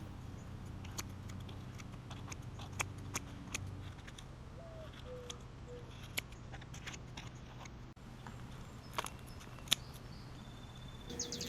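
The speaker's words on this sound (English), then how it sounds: "I cut all the roots at the bottom." Roots at the bottom of a potted star apple (caimito) tree are snipped off, giving a run of faint, scattered clicks and crisp cuts over a low steady hum.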